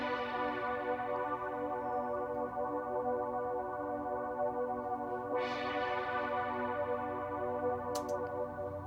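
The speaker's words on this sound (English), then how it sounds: "We got this little horn synth here." A horn synth sustains a steady, rich pad chord throughout, smooth and continuous with a faint brief swell partway, played alone without voices.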